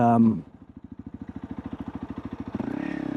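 A 300L motorcycle fitted with a Black Widow exhaust, heard while riding as a steady pulsing engine note that builds in speed, then rises in revs near the end, fairly close.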